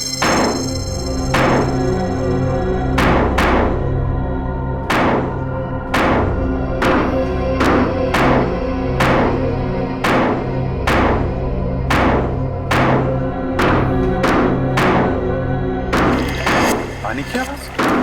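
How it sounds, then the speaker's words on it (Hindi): Repeated heavy strikes digging and breaking open a water tank at a hospital, a scene from the TV series CID; about fifteen sharp, regular impacts ring out over continuous loud music and voices. "खोदो, तोड़ दो इसे।"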